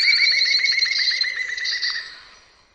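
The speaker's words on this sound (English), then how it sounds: "The first one is this green woodpecker." Green woodpecker calling: a rapid, ringing series of loud laughing notes, close and clear, slowing and fading away toward the end against a quiet background.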